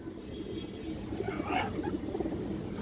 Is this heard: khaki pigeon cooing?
yes